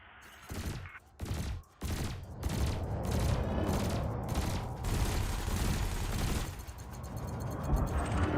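Ship weapons fire in Elite Dangerous, loud bursts of rapid gunfire hammering away at floating canisters, with short gaps between volleys and then near-continuous shooting through the end.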